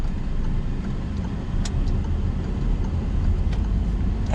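A car on a driving lesson rolls along under gentle braking, a steady low engine and road rumble close and constant, with a couple of faint clicks and no clear talk.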